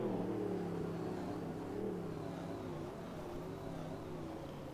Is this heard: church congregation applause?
no